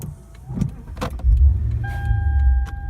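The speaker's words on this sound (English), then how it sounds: "let's go ahead and put it in there and turn the car on to see what happens" A 2008 Lexus IS being started after an instrument cluster swap: a few clicks and key handling, then the engine catches and settles into a steady, close, low idle with a faint chime tone above it.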